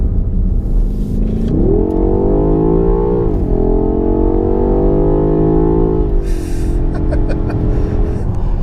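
A BMW X6M Competition engine revs hard under acceleration, its deep growl climbing in pitch, dipping at a gear change, then holding a loud steady drone before a few sharp crackles near the end.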